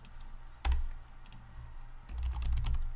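Typing on a computer keyboard, a quick run of close key clicks, one louder thump, then a dense burst of keystrokes near the end.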